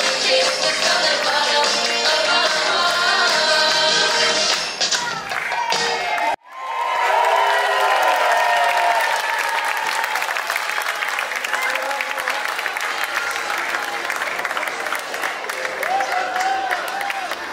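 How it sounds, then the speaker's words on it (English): An audience at a Christmas cabaret show claps and cheers loudly; the applause breaks off for a moment, then resumes as a lively mix of clapping, shouts and voices. "to give them one more round of applause"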